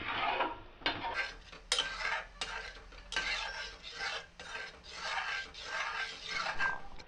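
Carrot halwa is stirred in a pan over medium heat, giving repeated soft scraping and light clinks of a spoon against metal in an uneven rhythm, close and fairly quiet.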